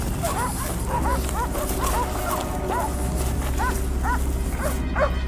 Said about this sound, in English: The dogs barked again, louder and more urgent than usual.